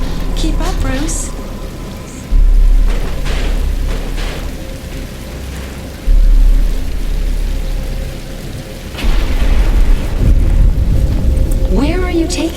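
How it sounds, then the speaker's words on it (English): Steady rain hisses across a city street in a Batman: Arkham Asylum cutscene, a continuous wash of downpour with low rumbling swells, under scattered voices. "But it's starting to rain."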